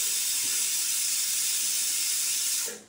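A few spoonfuls of oil go into a hot pan for a linseed and potato curry, hissing as a steady, loud sizzle that holds for nearly three seconds and then quickly fades.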